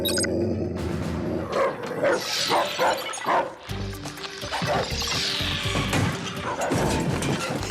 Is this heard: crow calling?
no